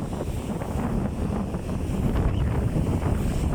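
Strong wind buffets the microphone beside a boat at sea, making a continuous heavy rumbling roar with a faint wash of waves underneath, loud and steady throughout with no talking.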